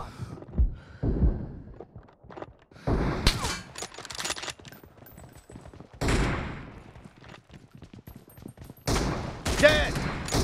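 Shooting video game gunfire arrives in several dense bursts of rapid shots, loud and close, separated by quieter stretches, with voices talking at times.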